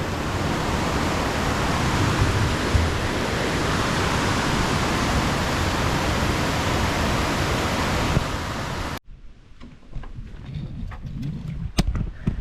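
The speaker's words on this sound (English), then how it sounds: "We're at Plumbago Creek." Creek water rushes at Plumbago Creek in a loud, steady, hissing wash that fills most of the stretch, then drops away abruptly to quieter outdoor ambience with faint scattered knocks.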